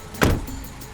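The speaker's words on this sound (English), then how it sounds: "It's a car." A car is heard in a short burst, a sharp mechanical thunk or whoosh at close range that fades quickly back to a low hum.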